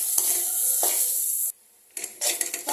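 Onion fries in a pan for chana dal with crackling sizzle and stirring scrapes, cut by a brief near-silent pause before the sizzling returns.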